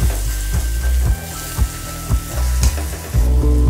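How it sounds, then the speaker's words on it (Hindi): A frying spice mix with garam masala crackles and sizzles loudly in a pan, with rhythmic stirring scrapes and knocks about every half second, no voices. "अब हम इसमें गरम मसाला डालेंगे, इसे मिक्स करेंगे अच्छी तरह से"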